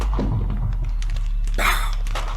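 A Minecraft Ender Dragon's remnant light bursting apart after the dragon dies, heard as a sudden loud bright blast that swells and rings on for about a second over a low steady rumble.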